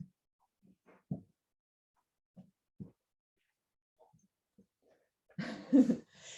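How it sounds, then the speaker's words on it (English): A dog at a training demonstration sniffs hard along the floor for kibble in short, scattered, quiet snuffling bursts, ending with a louder, longer burst of snorting sniffs. "you can hear him really sniffing hard, trying to find each little tiny piece of kibble."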